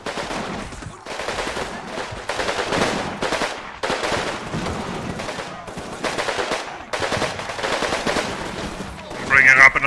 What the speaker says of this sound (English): This guy is still shooting at us.